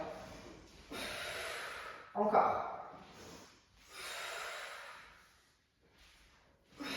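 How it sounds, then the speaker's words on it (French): Loud, forceful breaths come in long rhythmic bursts, each a rushing exhale, with a brief word spoken partway through. "Vous pouvez faire du bruit avec votre respiration"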